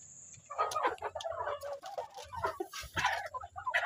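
Hens clucking busily on a small poultry setup, several birds overlapping in uneven, chattering bursts close by, with a brief higher crowing-like call mixed in and steady low rustling underneath.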